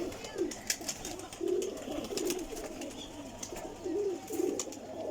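Pigeons in a racing loft give repeated soft, throaty coos, low rolling calls recurring every second or so at close range over a faint background hum.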